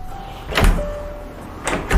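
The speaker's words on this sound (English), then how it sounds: "Is this door locked?" Someone tries a locked door in a house in an abandoned village, producing two short rattling jolts about a second apart over a steady background hum.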